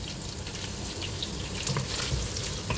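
Garlic goes into spicy fried pork sizzling in a pan, a dense, even frying hiss with a few soft crackles and pops over a short stretch.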